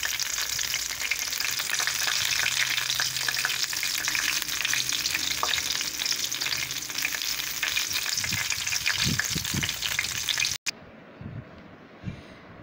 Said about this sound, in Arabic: بنحمر الحمام اهي